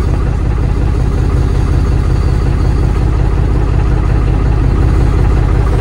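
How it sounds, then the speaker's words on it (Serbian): A 2022 Deutz-Fahr 4075E tractor engine idles inside the cab, a loud steady low rumble and drone with an even mechanical throb, no talking. "Evo ga buka u traktoru."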